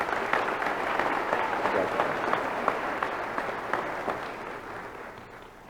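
Steady audience applause at a community college spring commencement ceremony, many hands clapping in a dense, even wash that holds for several seconds before easing slightly toward the end.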